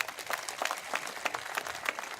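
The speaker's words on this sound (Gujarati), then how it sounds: "ચાલો એકવાર બધા એક સાથે તાળી પાડી દો" A crowd at a political rally in Navsari claps together in a steady burst of applause, many hands overlapping into a dense, continuous patter.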